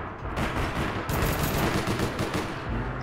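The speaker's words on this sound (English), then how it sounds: "I'm hearing shooting." Dense, sustained gunfire in the online shooter APB Reloaded, a continuous rattle of rapid shots and bursts with no break across the whole stretch, loud and close.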